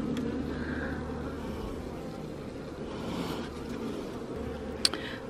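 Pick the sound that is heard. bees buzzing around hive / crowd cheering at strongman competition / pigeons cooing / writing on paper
bees buzzing around hive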